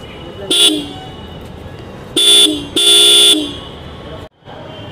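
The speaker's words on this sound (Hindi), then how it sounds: "चलिए इस गाड़ी का मैं आपको हॉर्न बजा के भी सुना देता हूँ" A Yamaha R15 V4 M motorcycle horn honks three times up close, one short beep followed by two longer blasts, over a low idling background.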